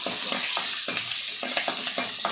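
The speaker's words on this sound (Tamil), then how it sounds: "வெங்காயமும் போட்டு வதக்கி விட்டுக்கலாம்" Garlic, curry leaves and onion sautéing in a pan, a steady sizzle with regular scraping stirs of the spoon, close and fairly loud, with no one talking.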